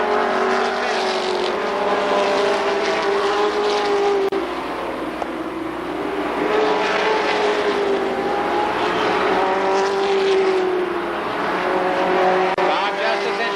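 A pack of super late model race cars roars around the Columbus Motor Speedway, a dense, sustained engine drone whose pitch swells and fades in waves as cars pass, with an announcer speaking throughout.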